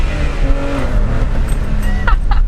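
A BMW 325is E30 fitted with a Toyota Supra turbo engine revs hard nearby, a loud, steady engine roar that climbs in pitch over a couple of seconds.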